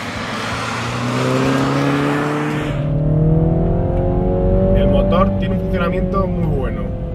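A 2014 MINI Cooper S turbo engine accelerates steadily, its rising engine note climbing through the gears with a brief shift pause, loud and close from inside the car.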